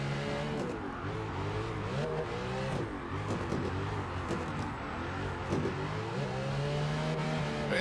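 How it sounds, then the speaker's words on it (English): A drift car's engine at a drift championship revs up and down over and over, the throttle blipping in quick, uneven surges, loud and up close. "listen to that throttle control"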